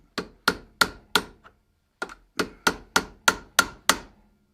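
Hammer blows on a chisel held against the bolt of a Mini 14 rifle sight, a run of sharp metallic strikes in two bursts of four and five, close and loud, with a faint tap between and no talk.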